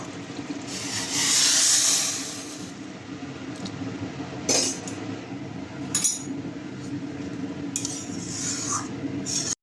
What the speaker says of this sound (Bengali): আমি জল গরম করেছি, জলটা দিয়ে দেবো